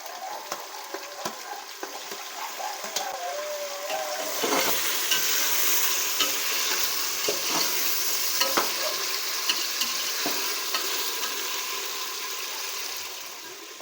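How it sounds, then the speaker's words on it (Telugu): Onions and tomatoes fry with biryani masala in a pan, giving a steady, moderately faint sizzle with occasional scraping stirs and a low background hum, and no voices. "ఇప్పుడు ఈ ఎర్రగడ్డలో కొంచెం ఎరుపు డల్ల వచ్చే వరకు బాగా దోరగా వేయించుకున్న తర్వాత మనం టమాటాలు వేసుకున్నాం"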